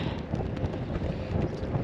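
Wind buffets the microphone while someone cycles in windy weather, a dense low rumble that roars steadily and close throughout.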